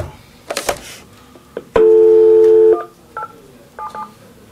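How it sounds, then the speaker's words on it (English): Someone dials a telephone during a commission meeting to connect a caller. A quick run of touch-tone beeps is followed by a steady tone of about one second and a few more short beeps, all fairly loud and close in a quiet room. "because I think James was gonna be on the phone, so I'll get him hooked up here"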